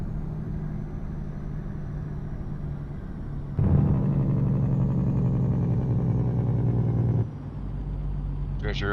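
A truck's engine brake in a video game, fitted with an engine mod, blats out a loud, rough, low rattle for about four seconds. A steadier engine drone runs before and after it.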